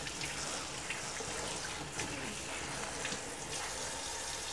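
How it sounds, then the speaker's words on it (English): Steady running tap water splashes continuously into a sink as cornhole bags are rinsed, with brief sloshing and wet squeezing sounds through the few seconds. "I can go ahead and rinse out each bag one by one"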